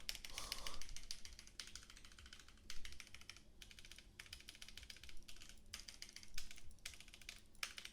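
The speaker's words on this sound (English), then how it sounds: "I was in the middle of typing that all word for word" Fast, continuous typing on a computer keyboard during a gaming session, with rapid clustered key clicks in bursts and short pauses, fairly quiet and close.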